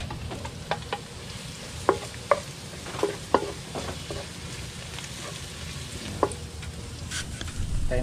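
Ginger is stirred in a frying pan with a steady, close sizzle and spatula scrapes and clicks against the pan, recurring at irregular intervals.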